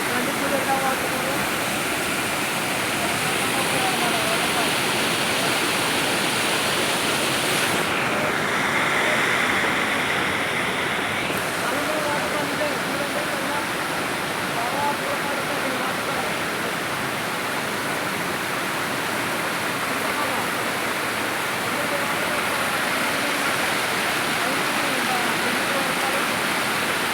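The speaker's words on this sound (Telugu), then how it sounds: "మల్లంగుమి వాటర్ ఫాల్ చూడండి." Mallam Gummi waterfall near Araku roars with a constant, loud rush of falling water that fills the whole scene, while someone talks over it.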